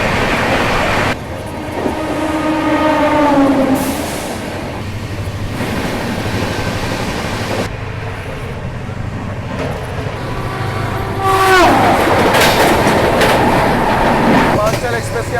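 The 12561 Swatantrata Senani Superfast Express runs loudly with a steady rumble and rhythmic clickety-clack of wheels over rail joints, while shrill squeals and surges come and go as it crosses other trains.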